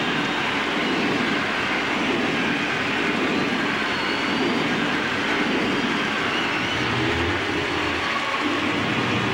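A loud, continuous rumbling roar fills a baseball stadium as the ballpark train at the Houston Astros' home field celebrates a Jeff Bagwell home run, a dense, steady wash of sound with a crowd blended in.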